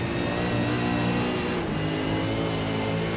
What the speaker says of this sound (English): Let's have a listen here to the car as he makes his way across the top of the hill.